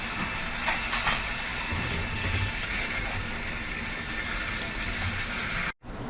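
Korean melon seeds are swished around in cold water in a bowl or sieve, a continuous close sloshing and gushing wash that runs almost unbroken before cutting out abruptly near the end.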